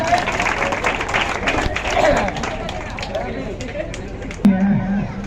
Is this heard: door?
no